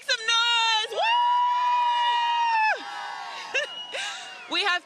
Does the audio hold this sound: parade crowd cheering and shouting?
yes